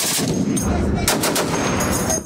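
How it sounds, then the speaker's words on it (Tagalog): Naval guns aboard Philippine and US Navy ships fire at sea in a rapid, loud burst of overlapping shots and booms. "Umalingaw-ngaw ang sunod-sunod na putok ng mga baril sa dagat mula sa 4 na barko ng Philippine at US Navy"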